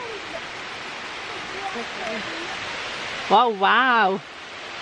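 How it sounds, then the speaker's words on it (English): Steady rain falls outside a glamping site in Devon, an even hiss of moderate loudness that runs without a break. Near the end a person speaks briefly over it. "can you hear the rain?"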